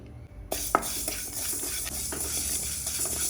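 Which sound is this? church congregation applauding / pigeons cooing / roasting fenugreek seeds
roasting fenugreek seeds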